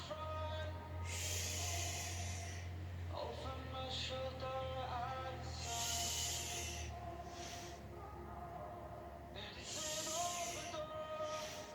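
A yoga session in which someone takes several deep, audible inhales and exhales in a slow rhythm, set against a low steady hum.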